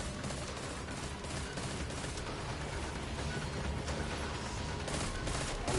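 A player's gun in the Destiny 2 video game fires dense, rapid gunfire continuously for several seconds, a loud, relentless rattle of shots.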